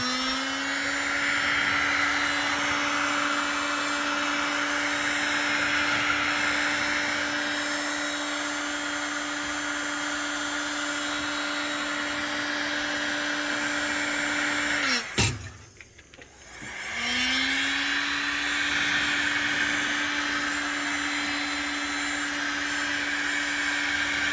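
A heat gun warms a car fender panel ahead of fender rolling, blowing a steady whining hum that cuts out briefly for a second or so before starting up again and running on.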